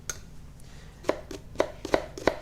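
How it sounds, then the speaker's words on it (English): Knife chopping brown onions on a board, a series of sharp, close taps at a steady, unhurried pace, getting slightly quicker toward the end, with a quiet room behind. "Now when you're chopping the onions,"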